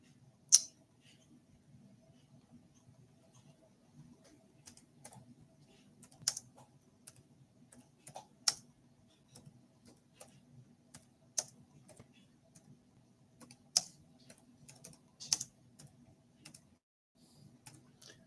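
Slow two-finger typing on a computer keyboard: sparse, irregular keystrokes, a few isolated clicks at a time, close and fairly quiet over a low steady background hum, with no talking.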